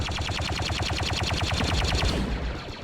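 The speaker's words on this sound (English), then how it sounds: "Tons of smoke and gunfire." Dense gunfire rattles through a huge 50v50 Star Wars battle on Tatooine, rapid regular blaster or rifle bursts firing continuously for nearly three seconds before easing off, loud and close.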